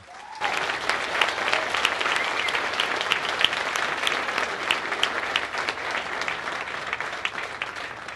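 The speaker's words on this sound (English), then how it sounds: "So a big round of applause for them." Audience applause at a high school band winter concert, a steady wash of many hands clapping that holds for the whole stretch, full and even with no talk over it.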